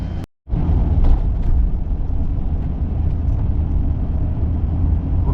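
A car drives on the road toward downtown Urbana, Ohio with a loud, steady engine rumble and road noise, broken by a brief dropout near the start.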